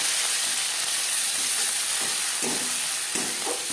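Two onions dropped into hot oil left from frying katla fish, giving a steady bright sizzle and hiss with a few soft stirring knocks, close and continuous.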